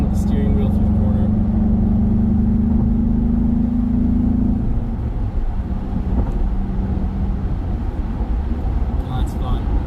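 A Ford Bronco with a manual transmission drives through a corner, its engine a steady mid-range drone with a held tone that drops away, road and cabin noise constant underneath and close.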